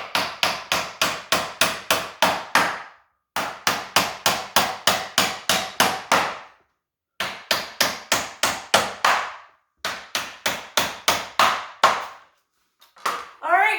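Nails are driven into a handmade wooden spice rack in several quick runs of sharp, even hammer blows, each run of about ten strikes separated by short pauses, close and loud.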